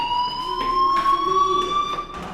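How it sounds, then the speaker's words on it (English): A loud fire alarm rings with a steady high tone overlaid by pulsing bursts that repeat roughly every half second, close and alone with no talking. "do you hear that fire alarm?"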